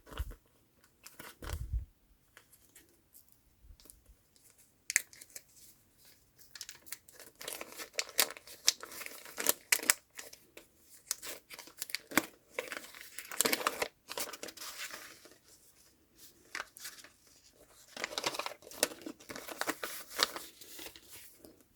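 A plastic packet crinkles and rustles close up in irregular bursts, with quiet pauses between the handling noises.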